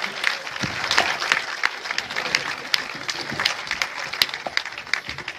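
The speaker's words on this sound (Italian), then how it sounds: "facciamo un applauso veramente di cuore" An audience at an Italian civic committee's thank-you rally applauds the young people, a crowd's clapping with scattered sharp claps over a busy background of voices, steady and fairly loud throughout.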